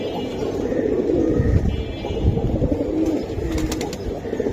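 Pigeons coo repeatedly at close range, low soft throaty calls in an irregular rhythm over background bustle, with a few brighter wing or chirp sounds near the end.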